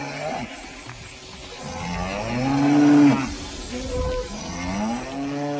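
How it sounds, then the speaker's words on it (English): Several cattle mooing loudly, overlapping low drawn-out calls one after another, fairly close and dominating the scene without speech. "aitanya Mahaprabhu passed through Vrindavan, herds of grazing cows saw him pass, and immediately surrounding him began to moo very loudly."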